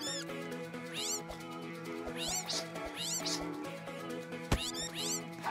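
A cat character meowing in a video game, several rising, sliding meows repeated over a sustained musical background, fairly prominent and close.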